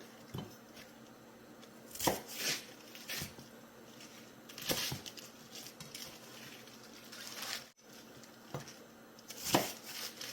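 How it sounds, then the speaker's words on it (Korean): A knife cuts through napa cabbage leaves in several separate, crisp strokes spaced a couple of seconds apart, close and fairly quiet, without speech. "조금 크다 싶은 거는 한 번씩 이렇게 잘라주세요."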